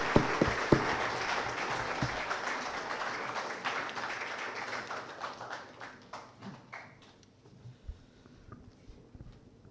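Audience applause at a convocation ceremony, a crowd clapping that begins full and gradually thins out into scattered individual claps before fading away.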